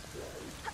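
Rain falling in the video game The Legend of Zelda: Wind Waker HD, a soft, steady patter heard faintly and briefly with no voices.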